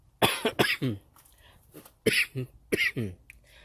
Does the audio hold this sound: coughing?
yes